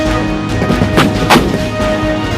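A K9 Vajra 155 mm self-propelled artillery gun of the Indian Army fires, giving a couple of heavy booming blasts close together over a loud, constant rumbling background with no speech.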